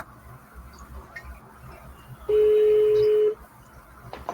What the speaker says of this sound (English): It's a weird ringtone.